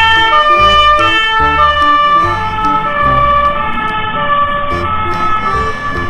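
Loud electronic siren with alternating two-tone wails repeating steadily, harsh and close, like a toy fire engine.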